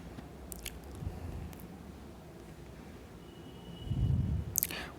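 Turmeric and hot chilli powder being stirred into a pork curry masala in a pan, producing soft, steady scraping and squishing with a louder churning burst near the end and no talking.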